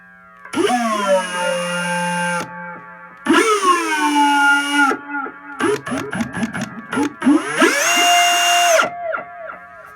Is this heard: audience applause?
no